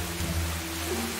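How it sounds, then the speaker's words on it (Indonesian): Steady rain falling in the block-building game Mini World, a constant broadband hiss with a low rumble beneath, even and unbroken throughout, with no talking over it. "Cuma hujan."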